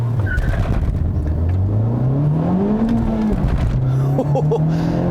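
A Honda Civic Type R hot hatch, front-wheel drive, launching hard: the engine note climbs steadily under loud road and wind noise, with faint chirps near the end.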